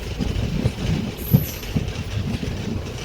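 A MEMU local train running, a steady low rumble of rolling carriages with a few faint knocks, heard from close by with no one talking.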